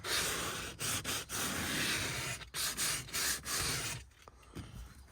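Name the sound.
lightly sanding plastic of Land Cruiser leather seats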